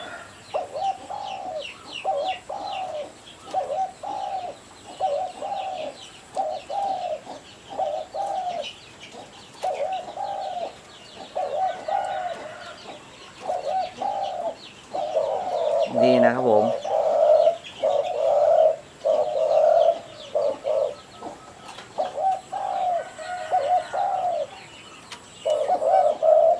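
A caged spotted dove coos repeatedly in a steady rhythm, each soft call close and clear, continuing for a long stretch with brief gaps and one short squeak partway through.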